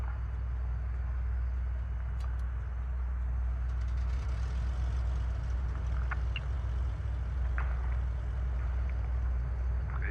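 Cessna 414AW Chancellor twin-engine piston aircraft starting its second engine in a flight simulator, producing a steady, loud low-pitched engine drone with faint clicks over the top.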